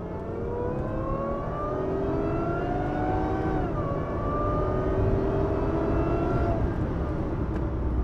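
Heavy Toyota Crown Athlete with a supercharged 3.5-litre V6 and Modellista +M exhaust pulling hard under acceleration, a loud, steady engine drone whose pitch climbs, dips briefly at a gear change, then rises again.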